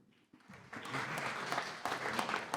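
After a quiet start, a conference audience at a management school, gathered for a talk on business and ecological transition, breaks into applause, a dense clapping that swells in and stays steady to the end.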